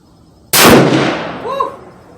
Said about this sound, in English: Okay, I'm going for my second shot.